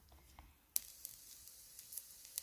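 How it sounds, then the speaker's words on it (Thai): Faint, dry sizzling and light crackling of aromatic spices dry-roasting in a hot pan for a catfish curry, starting with a sharp burst and continuing quietly with scattered pops. "คั่วเครื่องหอมแล้ว"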